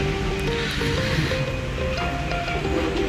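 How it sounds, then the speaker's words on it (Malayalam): Heavy rain pours down at Mumbai airport in a steady, dense hiss that never lets up, with faint tones droning somewhere in the background. "മുംബൈ എയർപോർട്ട് മഴയാണ്"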